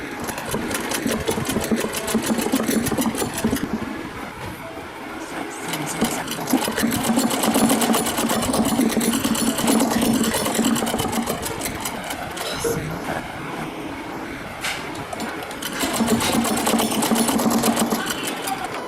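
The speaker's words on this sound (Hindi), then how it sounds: "कपड़े को एक के ऊपर एक रखकर धीरे धीरे हम उसकी सिलाई स्टार्ट करेंगे।" An electric sewing machine stitches layered fabric for a zippered sofa-cum-bed cover, running in loud, fast rhythmic chattering bursts that slow and pick up again, up close.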